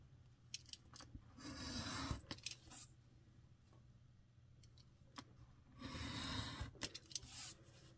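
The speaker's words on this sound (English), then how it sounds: "So these ones I will cut all the way." Scissors cutting paper strips for a paper weaving craft, faint close snips and scraping rustles in two longer bursts with small clicks between, no talk.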